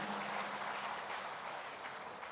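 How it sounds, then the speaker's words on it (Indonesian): Faint, distant applause from a conference audience for the universities named at a national meeting, a steady wash of clapping throughout. "Mohon tepuk tangan untuk universitas-universitas ini"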